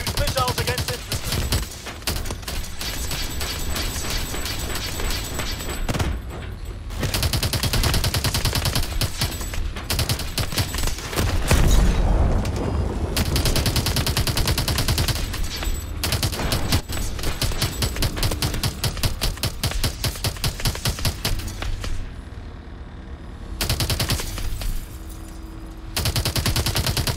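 Automatic gunfire in Call of Duty: Advanced Warfare rattles in long, rapid machine-gun bursts broken by brief gaps during a plane hijacking, with shouted voices mixed in.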